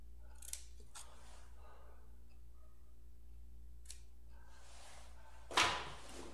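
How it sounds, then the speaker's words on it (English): Scissors snip a small piece off paper in a single short, crisp cut near the end, after a quiet stretch with faint handling sounds. "I'm going to snip a little piece off of there"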